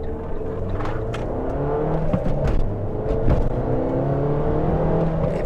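A 2012 Abarth 500 hot hatch with a 135bhp engine accelerating, a steady droning engine note rising through the revs with a few brief sharper bursts, heard from inside the car with no talking.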